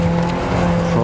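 Suzuki Escudo off-roader on winter tyres with a locking differential climbing a snowy hill, its engine droning loud and steady at close range throughout, with no voices.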